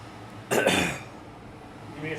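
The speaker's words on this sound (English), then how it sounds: "I need to clear my throat." A single short throat clearing, close and brief, against a steady background hum.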